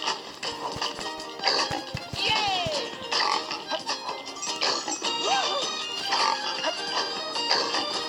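Cartoonish pig oinks and grunts pop up amid game sound effects, clip-clopping and a talking voice in Rayman Adventures, fairly loud and busy.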